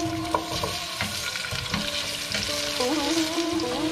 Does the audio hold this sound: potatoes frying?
yes